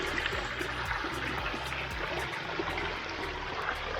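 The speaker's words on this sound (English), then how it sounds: "the sound of running water just seems to soothe" Running water trickles steadily in a tropical indoor garden, a continuous close wash of flowing water with no talking over it.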